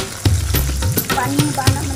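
Bata fish fries in hot oil with a loud, close crackle, broken by sharp pops and spits that burst out every few moments over the continuous sizzle.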